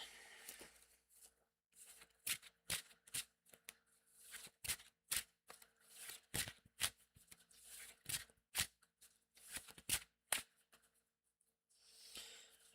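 Playing cards being shuffled in quick repeated bursts of crisp riffling and flicking, close and loud, with short pauses between bursts and no talk over them.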